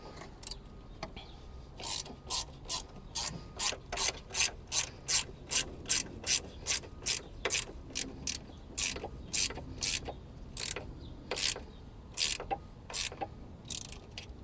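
Ratchet wrench snugging down the battery hold-down on a Scion iQ, producing a steady series of sharp, close clicking strokes spread evenly, alone.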